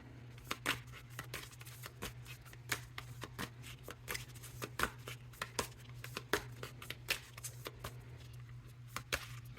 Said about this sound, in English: Let's do one more solid shuffle.